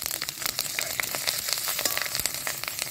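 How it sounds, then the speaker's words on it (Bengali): Dry red chillies, whole garam masala, cumin, bay leaf and green chillies temper in hot oil, crackling with rapid sharp pops over a continuous sizzle, close and moderately loud throughout. "শুকনো লঙ্কা ফোড়ন দিচ্ছি, গোটা গরম মশলা, এবারে জিরে তেজপাতা কাঁচা লঙ্কা"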